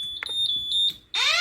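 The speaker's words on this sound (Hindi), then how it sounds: "ये अलार्म एक्टिवेट हो गया" A fire alarm control panel with a repeater panel triggers in event-locking mode, a continuous high electronic beep tone with short chirps, then a louder sweeping siren kicks in near the end.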